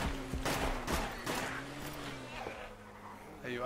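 Gunshots in the DayZ Overpoch mod, a few sharp cracks and a short volley early on, heard under a steady hum while people talk.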